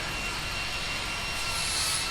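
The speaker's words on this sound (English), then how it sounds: "Raising cane with the grinder, it sounds like." An angle grinder used for exhaust work in a vehicle repair shop sends out a loud, steady, high-pitched whine and roar that holds unbroken for the whole stretch, with no talk.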